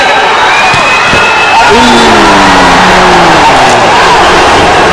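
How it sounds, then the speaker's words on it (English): A large, engaged arena crowd at a world-class volleyball match in Chennai cheers and roars continuously, with rising whoops and shouts swelling loudly through the middle and holding steady to the end. "And you hear the crowd. It's so fun to hear how engaged they are."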